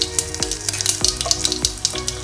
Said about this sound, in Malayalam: ഒരു അര ടീസ്പൂൺ ജീരകം, ഒരു അര ടീസ്പൂൺ ഉലുവ പെരുവരിപ്പായിട്ട് കൊടുക്കുക